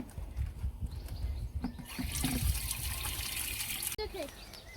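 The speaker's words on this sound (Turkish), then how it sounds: "Biz kendimiz su botulumuza doldurarak dökek" Water trickles and gushes as it is poured into a bottle outdoors, a steady splashing stream rising in the middle, with people talking throughout and background noise.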